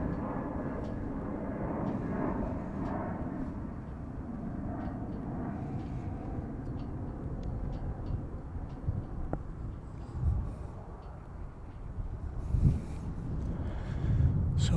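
An American Airlines airliner departs the runway at DFW Airport, a steady distant jet-engine roar rumbling throughout with some wind buffeting and faint scattered clicks.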